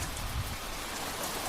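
Steady rain falls on a campsite in the Ozark National Forest, a dense, even patter all around with no voices.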